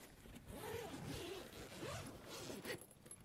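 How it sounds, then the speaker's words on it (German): The zipper on the expansion section of a Stoirm messenger bag being drawn open, a close, continuous rasping zip in two or three quick pulls, with no voice over it. "Und dazu gibt es dann hier unten einen Reißverschluss."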